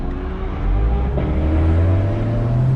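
A Corvette fitted with a giant spoiler accelerates past, its engine rising from a low rumble into a loud, steady roar that holds close by with no voices over it.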